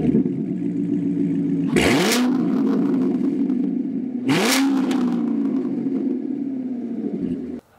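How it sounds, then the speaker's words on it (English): A Corvette with a Corsa exhaust cranks and fires up, then settles into a deep, rumbling idle with two sharp revs that rise and fall back, loud and close. "Let's get a cold start on here."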